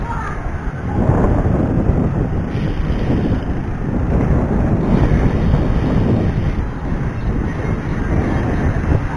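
Strong sea wind buffeting the microphone in a steady roar at a sea wall, with a low rumble of open water beneath it; no distinct voices stand out.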